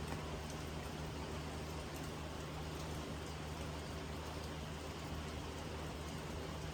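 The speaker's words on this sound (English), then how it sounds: "plenty of rain." Steady rain hisses evenly throughout, a dense wash of drops falling on surfaces with no pauses or voices.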